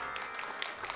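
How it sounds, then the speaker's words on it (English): A convention audience at TwitchCon claps steadily during a Castlevania: Symphony of the Night speedrun, a brief stretch of moderately loud, dense applause. "just keep clapping"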